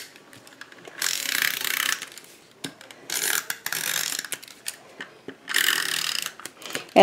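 Snail tape runner applying adhesive strips to a handmade card, three separate bursts of close, scratchy rolling and peeling sound, each about a second long, separated by small clicks and handling noises.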